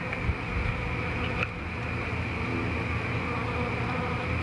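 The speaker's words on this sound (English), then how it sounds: "There's a drone that just went in there. I just seen a male bee go in there, so there's still drones." A dense, steady swarm of honeybees hums continuously around a hive entrance, loud and close with no pauses and no talking.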